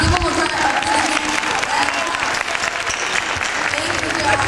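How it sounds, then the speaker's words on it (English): Audience at a 2004 youth conference applauding, dense continuous clapping from a room of people, loud and sustained, with voices mixed in underneath. "give them a round of applause"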